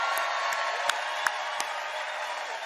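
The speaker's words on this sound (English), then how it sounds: "Can we give a round of applause too for Orange Peel for hosting us right here?" Crowd at a political rally in Asheville, North Carolina, at the Orange Peel venue, clapping and cheering in a continuous roar, with a few sharp whoops and claps standing out.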